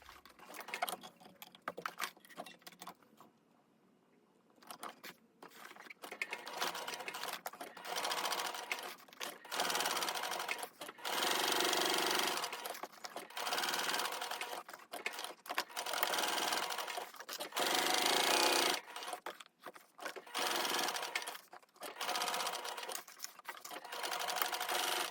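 A sewing machine stitches the back panel of a coffin-shaped wallet, running in close, steady whirring bursts separated by brief pauses.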